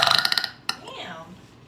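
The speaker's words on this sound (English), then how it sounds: "Your burps are nuts." One loud, close burp, a drawn-out guttural belch that fades into breathy trailing air, preceded by a quick series of rhythmic taps.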